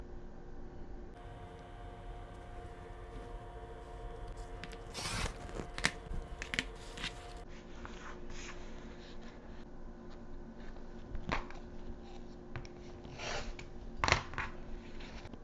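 Quilting fabric is cut for a Christmas stocking block, with soft scissor snips and rustling cloth handled on a table, faint and intermittent with scattered small clicks and no talking.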